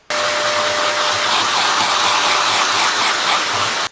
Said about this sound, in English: Right, good hoover, good hoover.